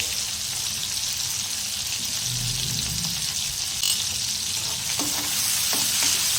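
Tomato cooking down in a pan for stuffed bhindi, a steady soft sizzle with occasional stirring scrapes, close and alone with no talk.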